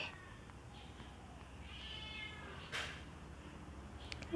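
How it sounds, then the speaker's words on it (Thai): A cat gives a single soft, drawn-out meow partway through, faint and alone against a quiet background hiss. "แมว"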